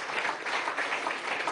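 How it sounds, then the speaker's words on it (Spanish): Studio audience applauding young performers after a children's microcantata on a television programme, a full, steady burst of clapping with crowd murmur mixed in, moderately loud and continuous. "vamos a darle un aplauso a estos muchachos"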